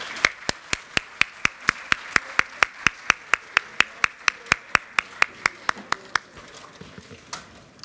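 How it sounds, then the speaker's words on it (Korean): Rhythmic, steady clapping at a Democratic Party assembly electing its National Assembly floor leader, about twenty sharp evenly spaced claps led from close by, with a softer crowd wash beneath that fades toward the end. "큰 박수로 모시겠습니다."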